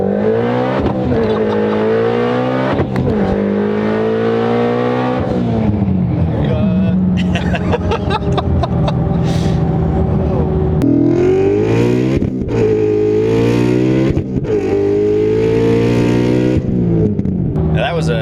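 A 2019 Shelby GT350 800R twin-turbo V8 accelerates hard from first through third gear with brief wheelspin. Loud, close engine howls climb in pitch several times, each rise cut off by a gear shift.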